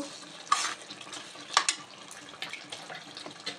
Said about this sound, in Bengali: একবার নেড়ে চেড়ে মিক্স করে দেব